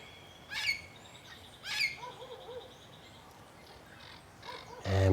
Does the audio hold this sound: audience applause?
no